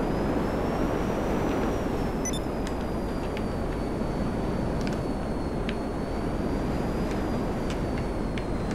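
Continuous roar of a Buckingham Pyro stealth jet in GTA flying and turning hard, a loud, steady engine whoosh with a slowly wavering high whine and a few faint beeps on top.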